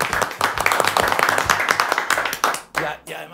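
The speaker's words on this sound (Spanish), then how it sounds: "fuerte el aplauso para el señor Nicolás Larraín" Studio audience applauding guest Nicolás Larraín on a comedy talk show, dense steady clapping with cheering voices mixed in, dropping off sharply near the end.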